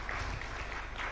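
Audience clapping at the Kenya Internet Governance Forum 2024, a dense, steady patter of many hands held at an even level through a short burst.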